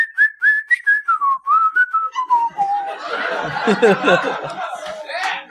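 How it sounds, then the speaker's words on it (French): Someone whistles a wavering, gradually descending tune, then it dissolves into close chuckling and laughter. "Je siffle comme un rêve, moi."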